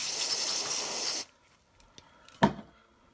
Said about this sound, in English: I'm gonna clean it up with the brake parts cleaner.